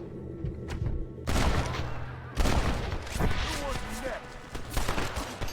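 Gunfire rings out in Red Dead Redemption: loud, sharp shots and bursts arrive in irregular clusters, with echoing booms and a dense crackle of rapid fire between them.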